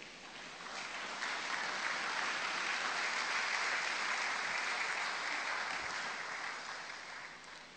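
A church congregation applauds during a Sunday thanksgiving service, with steady, dense clapping that swells in, holds for several seconds and tapers slightly at the end, heard from a moderate distance.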